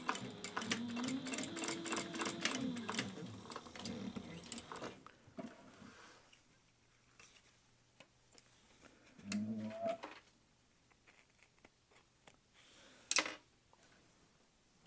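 A sewing machine bastes fabric pieces for a hands-free phone pocket in short bursts of rapid mechanical stitching, pausing between runs, with a few sharp clicks and faint rustling in quieter stretches.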